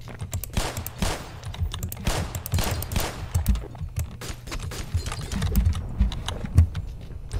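Rapid pistol shots in the Black Mesa video game, a dense volley of sharp cracks fired in quick succession, with heavy low booms and a clattering rhythm throughout.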